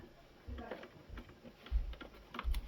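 Screws being backed out of a DeLonghi coffee machine during disassembly, heard as a few soft scraping clicks and low knocks spread over a couple of seconds, close and fairly quiet.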